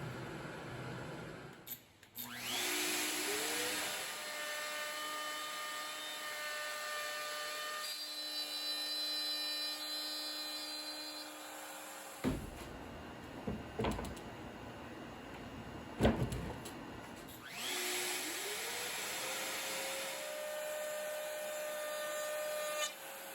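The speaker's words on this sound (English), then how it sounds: "we're going to go ahead and route dadoes into the back of the front and into the side pieces" Router cutting dadoes into wooden side and front panels of a range hood, a loud steady motor whine with the cutting tone rising and falling in several passes, broken by brief pauses and knocks between cuts.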